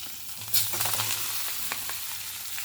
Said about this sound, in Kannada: ಈಗ ಇಂಗು ಸಾಸಿವೆ ಒಗ್ಗರಣೆ ಆಯಿತು